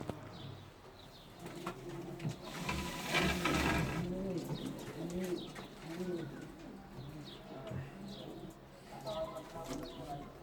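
Pet pigeons coo repeatedly in a coop, with soft rolling calls close by, a brief flutter of wings and someone talking over them.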